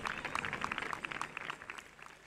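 Scattered, fairly faint applause from an audience at a gala electing the Guayarmina and Bentejuí of the Santiago 2022 fiestas, sharp individual claps standing out before thinning toward the end.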